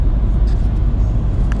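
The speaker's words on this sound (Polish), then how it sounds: "Dodając gazu, zobaczcie, auto przyspiesza i z tego eko wypadamy, tak?" A 2020 Renault Clio with a three-cylinder turbo engine accelerates, heard from inside the cabin as a loud, steady low engine drone and road rumble over a short stretch, with no talk.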